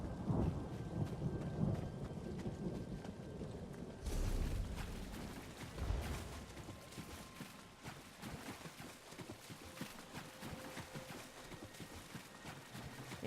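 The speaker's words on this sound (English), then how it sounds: "You have sunlight over there, but you can clearly hear thunder." Thunder rumbles low beneath steady rain in the Elder Scrolls Online game world, a deep roll swelling around the fourth second, with light clip-clop hoofbeats mixed in, all fairly faint.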